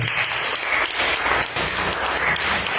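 Congregation applause during a church sermon, dense continuous clapping close and loud from start to finish with no speech over it.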